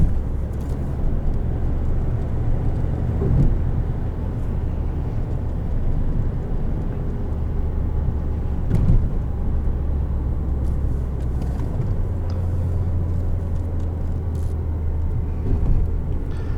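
A 2016 Jeep Renegade Latitude with a turbo engine and manual gearbox is floored from low revs, a steady, loud cabin engine drone and rumble that holds throughout, with gear-change shifts in pitch partway through.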